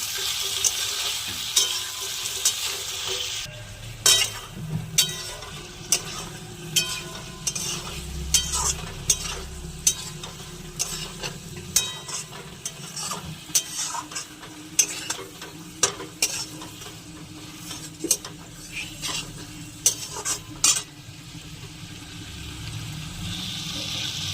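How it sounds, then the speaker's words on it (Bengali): Frying food seasoned with salt, turmeric, chili, cumin and coriander powder is stirred in a sizzling pan, a continuous close hiss punctuated by frequent sharp scrapes and clacks of the spoon in an irregular rhythm. "লবণ হলুদ গুঁড়ো লঙ্কা গুঁড়ো জিরে গুঁড়ো ধনে গুঁড়ো দিয়ে নেড়ে নেব।"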